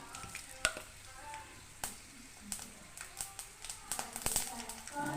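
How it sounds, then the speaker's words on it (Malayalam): Mustard seeds splutter in hot oil for a sambar, with scattered sharp pops and crackles over a soft sizzle that grow busier toward the end, close up, with a voice faintly in the background. "സാമ്പാറിലേക്ക് കടുക് വറക്കാൻ പോവുകയാണ്"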